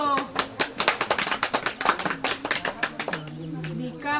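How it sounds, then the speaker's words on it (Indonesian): Schoolchildren in a classroom clapping their hands, a run of distinct sharp claps in a loose rhythm, close by, with voices speaking and calling out near the end. "Kita tepuk tangan dulu."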